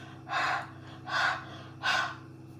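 Three strong breaths blown into a money-drawing mixture, each a breathy rush about half a second long with short pauses between, close and alone.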